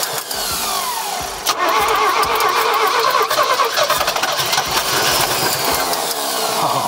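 An old, long-abandoned Squarebody pickup's engine runs rough and loud, its timing under adjustment, with the throttle flicked in short stabs that give uneven surges and crackling bursts over a constant mechanical roar.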